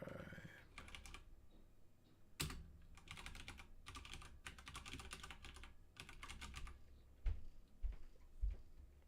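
Bursts of computer keyboard typing come in irregular clusters, close and fairly clear, with short pauses between runs of keystrokes and a few heavier key taps near the end; no one speaks.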